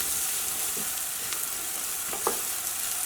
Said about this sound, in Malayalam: മഞ്ഞൾപ്പൊടി നന്നായിട്ട് മൊരിഞ്ഞിട്ടുണ്ട്.